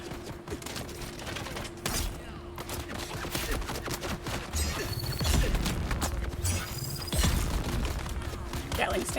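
A Gatling gun fires in rapid, dense bursts during a battle in Dune Awakening, mixed with crashes, impacts and mechanical clatter. People talk over the gunfire.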